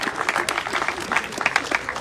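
An audience at a basketball club's season launch evening applauds, a lively spatter of individual claps close by, dense and continuous with faint crowd murmur underneath.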